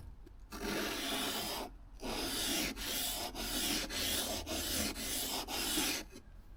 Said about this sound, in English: try to use as much width and length of the stone as you can